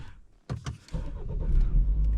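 A BMW X3 engine cranks in a couple of quick starter pulses, then catches and settles into a steady, close idle rumble, with no talking.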